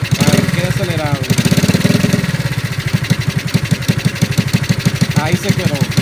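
A small motorcycle or scooter engine idles close up during carburetor adjustment, a loud rapid putter with brief revving swells at the start and near the end.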